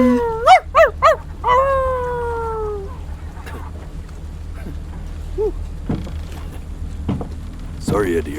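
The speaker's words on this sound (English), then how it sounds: "Oh, you're a dog." A dog howls and bays in the video game Before Your Eyes, with several rising, wavering cries up front that fade out, followed by quieter scattered sounds and some speech.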